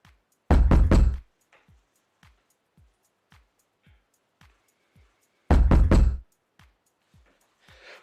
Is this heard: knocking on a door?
yes